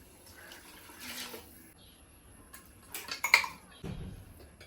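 Water being measured and poured in a kitchen while making mutton biryani, with quiet splashes, clinking of a glass or vessel and pot handling, fairly faint and close.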